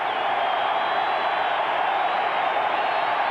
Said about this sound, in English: You'll hear the crowd get into it.